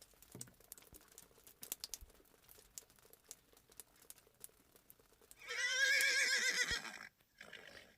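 A horse gives a loud, high whinny that lasts about a second and a half, preceded by faint scattered rustles and light thumps, then quiet hoofbeats.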